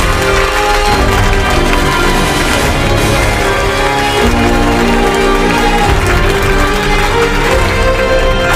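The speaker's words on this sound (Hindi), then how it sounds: "जोरदार ताली" Loud, dense clapping from a crowd at a school general-knowledge quiz, sustained and even throughout with no pauses, filling the room.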